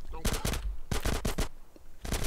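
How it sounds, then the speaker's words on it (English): Bursts of automatic gunfire in GTA San Andreas come in three loud clusters of rapid shots, separated by brief quieter gaps. "Who is shooting?"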